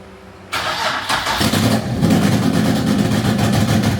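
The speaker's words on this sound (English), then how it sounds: "Definitely still got that misfire right now." A turbocharged Nissan VQ37HR V6 in a drift Patrol build cranks and catches, then settles into a loud, rough, uneven idle with an audible misfire, heard close up with no talking.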